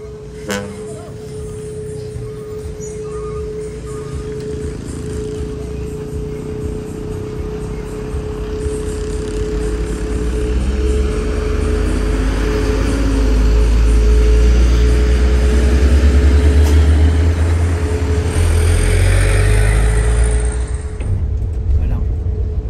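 Trucks passing a bus on a quiet road near a roundabout in Muara Bungo, heard as a steady low rumble of heavy engines and road noise that swells in the middle and then fades, with no talk over it.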